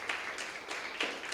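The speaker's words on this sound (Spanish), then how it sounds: "Denle un aplauso al Señor" Steady applause from a church congregation, a dense wash of clapping with a few louder bursts, continuing throughout without speech.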